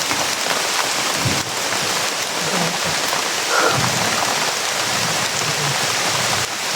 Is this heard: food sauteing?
no